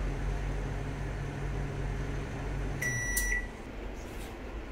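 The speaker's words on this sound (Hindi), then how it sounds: "सबसे आसान है, आप माइक्रोवेव में इस तरह से भून सकते हैं।" A Samsung 28-litre microwave oven hums steadily while roasting peanuts, then its beeps sound as the cycle ends and the running hum cuts out, leaving quieter room tone.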